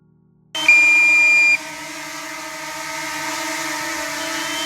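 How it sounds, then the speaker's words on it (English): DJI Mini 4K drone sounding its low-battery warning: a sharp, piercing tone starts abruptly and holds for about a second, then a steady high-pitched whine continues close and loud. "At this point the drone started beeping, indicating low battery, and the sound was absolutely torturous."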